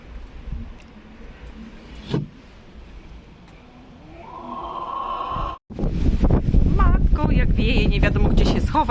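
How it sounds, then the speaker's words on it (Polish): Strong cold wind buffets the microphone in gusts, building to a strong, roaring blast in the second half while a person speaks over it. "okropny wiatr. Jest słońce, a jest tak zimno i taki zimny wiatr jest."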